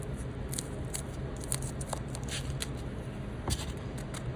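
Scissors trim material for an HO scale model railroad coal load, producing several brief, soft snipping clicks over a constant low background hum.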